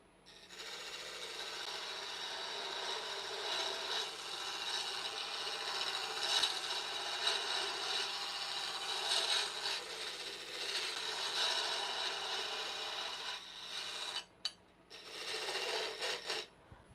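Continuous close scraping hiss of a carbide tool cutting wood on a lathe while turning bottle openers, steady with slight surges, then briefly cut off and resumed near the end.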